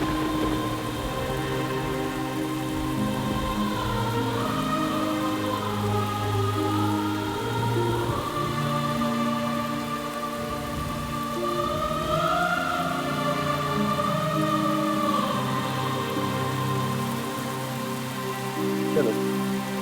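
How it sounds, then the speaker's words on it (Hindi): Heavy rain pours steadily and loudly throughout, with a wailing siren-like tone drifting above the downpour. "कितनी तेज बारिश हो रही है"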